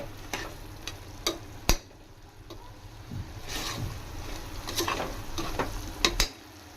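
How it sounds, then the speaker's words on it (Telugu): Mutton curry frying over a medium flame, a soft low sizzle broken by a few sharp clinks and scrapes of a utensil stirring in the pan. "ఈ విధంగా ఒక 15 మినిట్స్ వరకు ఈ విధంగా మీడియం ఫ్లేమ్ మీద ఇలా ఫ్రై చేసుకుంటా మగ్గించుకోవాలా"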